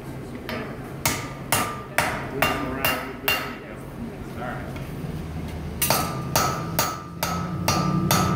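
A hammer strikes hot steel while a rail spike is forged into an axe, sharp ringing blows in an uneven series, near and loud, with speech and background sound between strikes.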